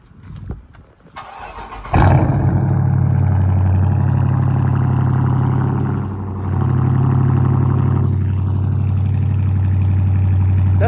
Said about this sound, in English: We'll give y'all this motherfucking cold start real quick.